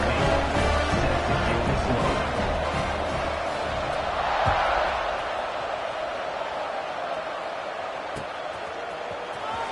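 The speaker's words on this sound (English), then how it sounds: "this crowd is buzzing after that last score." A stadium crowd roars and buzzes in the College Football 26 video game at Arizona State, a loud, dense, continuous murmur that swells midway and eases slightly, with brief thumps over it.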